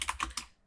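Three or four crisp keyboard keystrokes tapped in quick succession at close range, fading to quiet at the end, with no voices.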